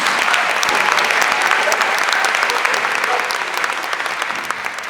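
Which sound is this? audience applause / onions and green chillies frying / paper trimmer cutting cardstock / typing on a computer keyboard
audience applause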